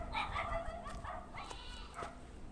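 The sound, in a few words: dog barking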